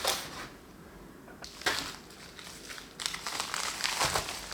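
Paper crinkling and rustling as an envelope is opened and unpacked, close and fairly quiet, in uneven bursts of crumpling with brief lulls between.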